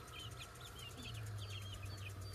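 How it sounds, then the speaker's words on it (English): Big Ameraucana chickens near a coop at dusk give soft, repeated clucks and chirps over a constant low engine-like hum, fairly faint and a little distant. "They can be some big old chickens."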